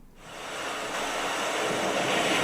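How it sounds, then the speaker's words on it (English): Steady rushing surf fills the air, a broad whooshing wash of waves that swells gradually over a couple of seconds, with no voices. "So I think we're gonna roll with ambience"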